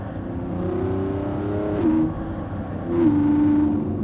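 A 2025 Lamborghini Revuelto engine revving to 9,500 RPM on a canyon drive, a loud sustained engine note climbing steadily, dropping at a shift, then climbing again, heard from inside the car.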